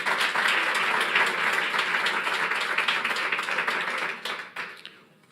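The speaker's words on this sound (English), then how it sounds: "Let's clap for the following stakeholders" An audience at a launch event applauds in a dense, lively burst of clapping that carries on steadily, then thins out and fades toward the end.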